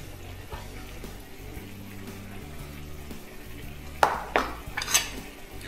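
A ladle stirs borscht in a soup pot with soft scraping and sloshing against a low kitchen hum. A few louder clinks of the utensil on the pot come near the end.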